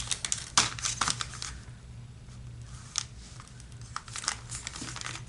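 A large padded shipping envelope from Amazon, roughly 14 to 15 inches, is crinkled and handled, giving bursts of crackly rustling with quieter stretches between, close and fairly faint, with no talking.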